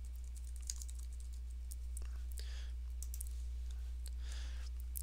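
Computer mouse and keyboard clicks come in quick light bursts while a URL is pasted into QGIS, set over a steady low electrical hum with faint whispery voice traces.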